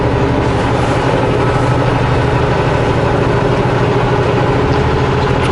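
A truck engine labors steadily under a heavy load, a loud, continuous low rumble and drone heard close up with no talking.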